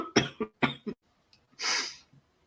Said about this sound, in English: I can't start coughing again.